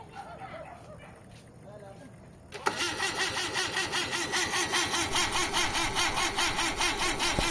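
An engine cranks over and over in a steady, rapid rhythm without catching, loud and close, following a quieter stretch with faint voices.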